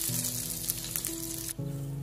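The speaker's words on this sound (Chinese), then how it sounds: "将两面都煎至金黄" A chive and egg pancake fries in oiled pan, giving a continuous bright sizzle with a low hum underneath and a short dip as the pan is disturbed, close and fairly quiet.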